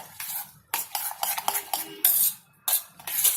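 A spatula repeatedly scrapes and stirs Maggi masala into fried rice in a metal pan, giving close, sharp clattering strokes in uneven bursts with short pauses between them.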